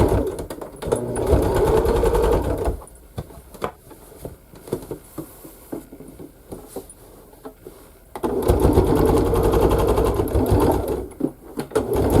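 A sewing machine stitches a fabric bag in fast, loud, close bursts of mechanical whirring, with a quieter pause of small clicks and handling noises between two long runs.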